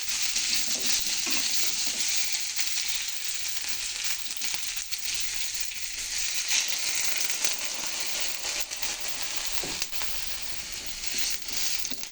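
A vegetarian vegetable curry fries in a pan, a loud continuous sizzle and crackle with occasional stirring scrapes, close and steady with no voices.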